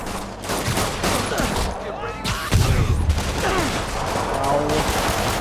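Enemy gunfire in Marvel's Spider-Man on PS4 Pro, a dense, loud fusillade of rapid overlapping shots and booming impacts that runs throughout, with a voice speaking now and then over the combat.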